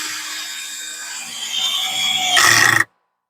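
Power drill drives a screw into a pre-drilled piece of wood, a whining motor rising in pitch and effort for about three seconds before cutting off abruptly.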